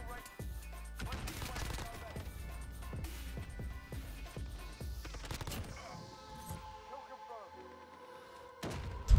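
Modern Warfare shooter gameplay on a tight ship map: rapid gunfire and blasts pound through the first half, a grenade explosion among them, then the action thins to scattered shots, clanks and a closing bang.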